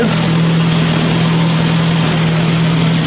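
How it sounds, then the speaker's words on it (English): A Mazda engine idles steadily up close on a test run, a loud continuous low hum with a constant drone and no talking. "I just needed to test the engine and make sure it actually works."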